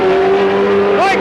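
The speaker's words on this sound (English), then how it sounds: "Side by side racing between the top 2 cars there" Race cars at a speedway roar side by side at close range with a loud, sustained engine drone that rises in pitch as they pass.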